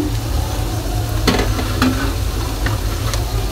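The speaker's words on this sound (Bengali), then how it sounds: "তো বেলপুরিগুলো ভেজে ফিরে আসছি।" Puris for bhelpuri fry in hot oil, a steady loud sizzle with a low bubbling rumble, broken by a few sharp scraping stirs of the spoon in the pan.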